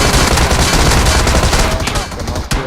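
Thompson SMG fire in a mobile shooter game: a loud, dense, continuous automatic burst that runs almost the whole time and cuts off sharply near the end.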